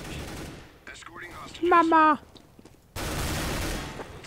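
Counter-Strike: Global Offensive gunfire bursts in loud rapid volleys at the end, after a quieter stretch where a voice shouts briefly over faint game sounds.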